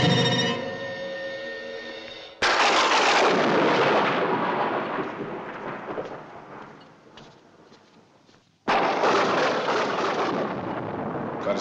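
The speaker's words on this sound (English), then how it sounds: "storm, isn't there?" A storm in a 1971 horror film: heavy thunder crashes in twice, sudden and loud, each rolling on as a long broadband rumble. A faint tonal ringing comes before the first crash.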